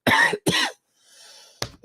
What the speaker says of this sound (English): caused me to cough